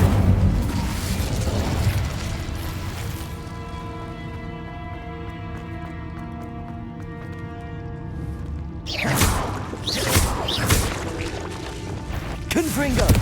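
An Incendio fire spell cast in Hogwarts Legacy, a roaring burst with booming impacts and crackle after a stretch of tonal game music, loud and close, with spell shouts in the game.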